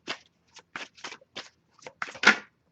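Tarot cards are shuffled in several short bursts with brief pauses between, close and fairly quiet, ending in a slightly louder flurry.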